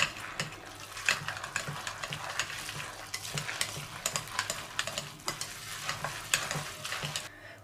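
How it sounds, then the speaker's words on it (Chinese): Chopped glass noodles being stirred together with two raw eggs, salt and cumin powder in a bowl, giving a steady run of close, wet mixing and scraping strokes with frequent small clicks, no voices. "先给它搅拌均匀。"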